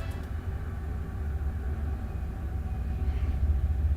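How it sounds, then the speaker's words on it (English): A train passes near a college campus, heard as a low, steady rumble that holds throughout and swells slightly toward the end, with no voices. "And there's the train. So I'm not sure if you'll be able to hear that."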